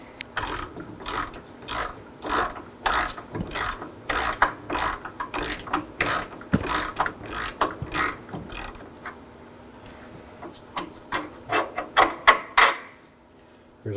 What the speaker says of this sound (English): For the front, I'll be using a 22mm socket, and for the back, a 18mm wrench.